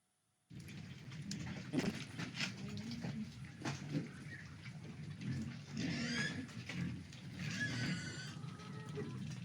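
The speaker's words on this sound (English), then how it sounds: "These are pigs consuming water hyacinth." Pigs feed on water hyacinth with steady wet munching, crunching and snuffling that runs close and continuous, broken by occasional louder bursts of chewing and rustling.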